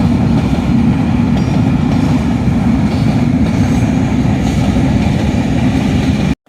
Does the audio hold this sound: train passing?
yes